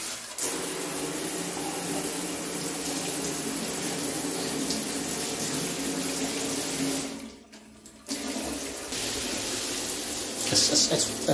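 Water runs steadily from a tap in a hotel room bathroom as someone checks for hot water, a loud continuous hiss that cuts out briefly about seven seconds in and then resumes.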